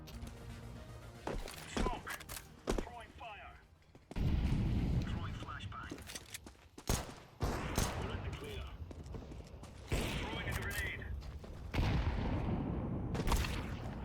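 Gunfire in the tactical shooter Counter-Strike 2 during a competitive match: rapid bursts of sharp shots and heavier blasts, some close and loud, mixed with game effects and a player talking over the action.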